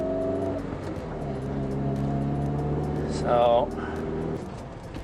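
A Mitsubishi Evo 9 running on pump gas pulls away, its engine a steady droning hum inside the cabin, rising slightly as it drives off, while a person talks over it.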